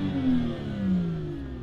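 A BMW M2 LCI F87 engine revs twice in quick succession, rising and falling in pitch, loud and close, with no talking over it.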